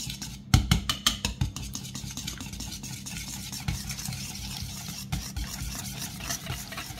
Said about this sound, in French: on va mélanger jusqu'à ce que ce soit homogène.